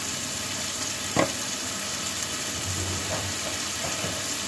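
Food stir-fries with soy sauce and pepper in a pan, a constant hissing sizzle broken by one sharp utensil clack and light stirring scrapes, with no voices.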